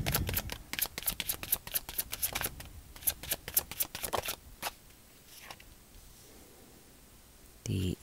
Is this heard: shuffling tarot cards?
yes